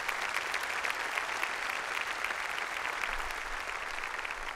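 A church congregation applauds steadily throughout a Sunday service, a dense continuous wash of clapping at moderate level with no speech over it.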